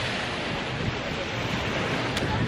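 Ocean surf on a Spanish beach makes a steady, full broadband wash that rolls on without clear breaks, close and fairly loud, with some wind buffeting the microphone.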